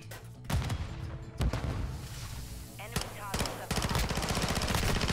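Rapid automatic gunfire rattles through a Call of Duty Hardpoint match, with several close, loud bursts of video-game shots over background game sound and a player's voice.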